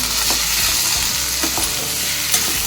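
Three medium tomatoes, cut up, sauté in a hot pan for a Tamil egg masala, with a steady close sizzle and occasional scraping stir strokes throughout.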